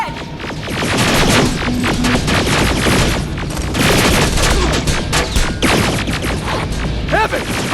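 Turret gunfire in the game Terminator Resistance, a dense, loud fusillade of rapid shots with heavy booms running continuously throughout.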